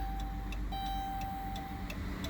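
Car turn signal relay ticking steadily after a TIPM replacement, a regular series of light clicks about every third of a second, heard close over a low engine-idle rumble, with no talking.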